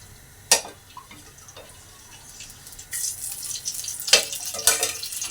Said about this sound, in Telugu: తగినంత ఆయిల్ వేస్తున్నానండి